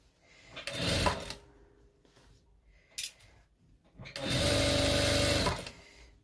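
A sewing machine stitches around a long skirt with an elastic back, running in a short burst, then a quick whir, then a longer steady run, with quiet handling between.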